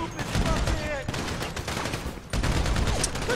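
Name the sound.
gunfire in the video game GTA 5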